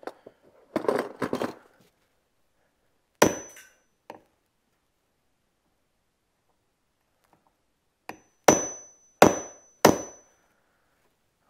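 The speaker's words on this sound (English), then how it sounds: "I'm just going to use a center punch here." A center punch strikes the hull of a 2006 Mastercraft Maristar boat in several sharp, isolated metallic clangs, with a quick cluster of taps early on and three loud, evenly spaced hits near the end, separated by silence.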